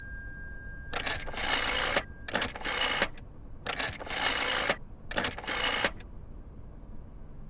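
Old-style telephone ringing inside the horror video game Layers of Fear, four loud bell bursts in an even rhythm with brief gaps between them, alone with no talking.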